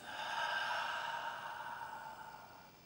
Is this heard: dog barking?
no